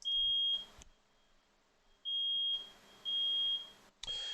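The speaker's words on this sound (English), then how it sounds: "there's a fire alarm going off in my house" A house fire alarm goes off with a shrill, steady electronic beep in long repeated tones separated by quieter gaps, loud and close, heard alone.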